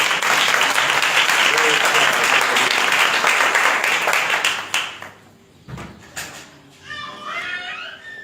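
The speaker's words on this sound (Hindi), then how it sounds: "क्रूसीफाई यीशु के लिए जोरदार ताली दिया।" Loud, dense applause from a church congregation that fades after several seconds, leaving scattered voices and a few stray claps.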